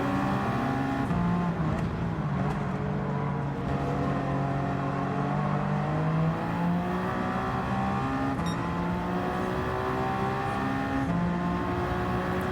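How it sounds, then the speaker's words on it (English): A McLaren race car roars past amid a pack of prototype racers in the Rolex 24 at Daytona in Gran Turismo 7, engines droning loudly and continuously with layered rising and falling revs throughout. "There goes the McLaren again."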